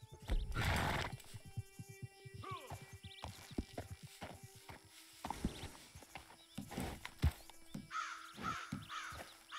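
A horse in Red Dead Redemption 2 clip-clops along with scattered hoof knocks and a short whinny, while crows caw in the background of the open-world scene.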